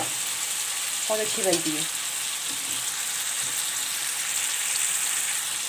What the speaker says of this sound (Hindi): चलो टमाटर हमारे अच्छी तरीके से फ्राई हो गए